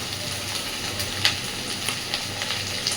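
Potatoes fry with onion, ginger, garlic, green chili and spices, making a soft, steady close sizzle with light scattered stirring clicks and no talking.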